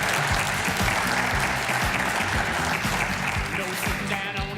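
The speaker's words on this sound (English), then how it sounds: "How about a big round of applause, please, my friend, Mr. Eric Sheldon." A loud, full round of audience applause for a guest on a show fills nearly five seconds, thick continuous clapping with some cheering mixed in, steady throughout.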